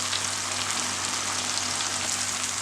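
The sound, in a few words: curry leaves sizzling in hot masala oil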